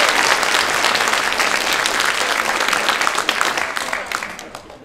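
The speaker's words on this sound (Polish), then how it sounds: "Jeszcze raz brawa do panów." An audience at an improv comedy show gives dense, steady applause for the performers, a continuous wash of clapping that tapers slightly at the end.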